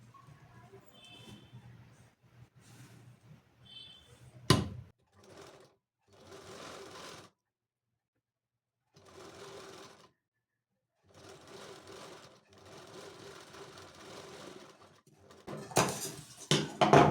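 Short bursts of a domestic sewing machine stitching a blouse neckline, several separate runs of whirring needle strokes between quiet pauses, with a few sharp clicks and handling knocks, fairly close and soft.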